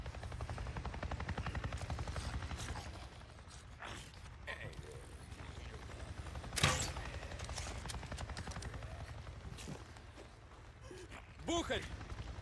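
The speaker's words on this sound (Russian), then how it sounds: "Вертолет Неро прошел прямо надо мной" Helicopter passing overhead in the Days Gone video game, a steady loud rotor thump and engine roar that dominates, then recedes under game ambience with a few sharp bangs and creaks.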